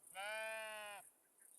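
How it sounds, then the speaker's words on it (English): A sheep in the video game Tiny Glade gives one clear, close bleat lasting under a second against a quiet background. "Sheep."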